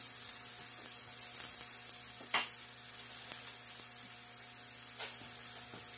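Mushrooms for fajitas frying in a pan give a faint, steady hiss of sizzling, with two brief sharper crackles standing out near the middle and end.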